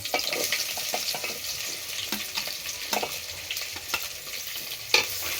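Whole spices and chopped onion fry in oil in a pot over a wood-fired stove for chicken biryani, making a continuous close sizzle broken by scraping stirs and small clinks.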